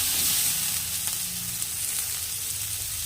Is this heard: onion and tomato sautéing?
yes